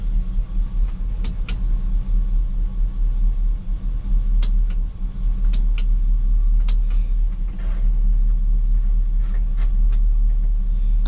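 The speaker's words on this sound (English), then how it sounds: "I feel like the idle on it's just way too slow" A 1985 GMC Sierra C20 square-body pickup idles slowly and roughly, a loud steady low rumble close by with a few sharp ticks and clicks over it.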